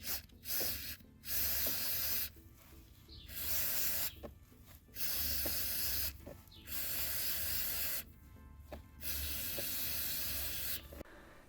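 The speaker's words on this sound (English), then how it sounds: "I'm going to use a liquid moly MAF sensor cleaner" Liqui Moly MAF sensor cleaner sprays from an aerosol can onto a car AC frost sensor in several long hissing bursts of about a second each, separated by short pauses, close and loud.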